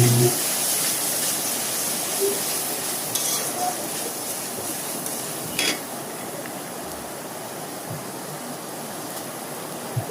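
Crushed garlic and onion paste frying in a pan, giving a steady, close hiss and sizzle that runs throughout, with occasional soft stirring scrapes and no talking.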